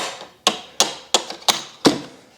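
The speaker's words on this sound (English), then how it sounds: "You can use the hammer a bit." A hammer strikes a pedal rod five times during the teardown of an electric unicycle, with sharp metallic taps at a steady, unhurried pace, loud and close with nothing else heard.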